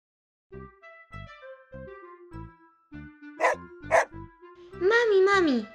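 Two sharp dog barks ring out over a simple, bouncy melody, followed by a longer sung passage.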